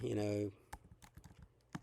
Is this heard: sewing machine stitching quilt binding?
no